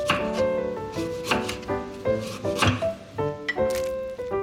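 A knife chops ginseng on a cutting board in quick, close, irregular thunks, with a few louder strokes, while a voice talks faintly under the cutting.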